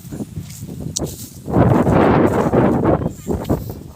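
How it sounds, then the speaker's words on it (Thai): Strong wind blows outdoors, buffeting the microphone with rough, gusty rumbles and a rushing swell in the middle, loud and close. "โอ้ลมกระแห้งครับ"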